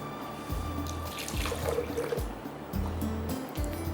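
Water poured into a green chili paste being made for chutney, a soft continuous splashing pour under steady background noise with low thumps in the kitchen.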